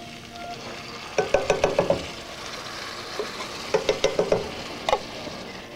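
Tomato sauce sizzles in a hot pan while being stirred, with two quick bursts of rhythmic scraping strokes over a steady low frying hiss.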